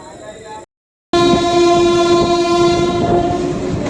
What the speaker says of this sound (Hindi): तो भाई अपनी ट्रेन दून एक्सप्रेस का बालामऊ से डिपार्चर हो चुका है।